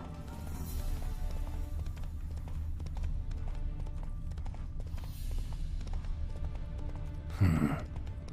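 Horse Roach galloping in The Witcher 3, a steady clip-clop of hooves under game music and ambience, with a brief louder burst near the end.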